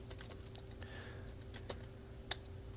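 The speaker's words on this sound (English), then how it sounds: "I'll go right here in the body, and then I'll type in a header" Keys clatter on a computer keyboard while text is entered on a web page: scattered, irregular clicks with a few sharper taps, quiet and close, over a faint steady hum and no speech.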